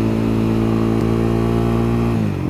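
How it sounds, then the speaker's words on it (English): A motorcycle with a loud aftermarket exhaust revs in traffic, its deep, throaty rumble holding strong and close, then falling off sharply near the end. "I may also be revving it a little bit just so I can see what it sounds like later"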